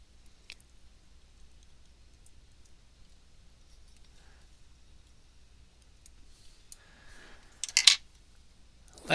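A long quiet stretch, then a couple of quick, crisp scissor snips close by near the end.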